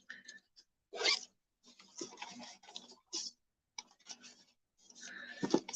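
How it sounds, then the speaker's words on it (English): Up close and quiet, the small zipper pocket on a roll-up colored-pencil case is worked open and shut in short scratchy runs mixed with light ticks and clicks. "This little roll-up doodad also has a pocket, little zipper pocket"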